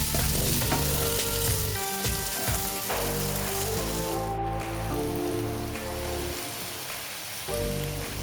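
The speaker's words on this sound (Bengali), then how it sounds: "এরপর সমস্ত সবজিগুলো দিয়ে ভাজা ভাজা করছি।" Mixed vegetables with two dried red chillies fry in a pan, giving a loud, steady sizzle throughout with scraping stirring noises and occasional clinks, and no voices.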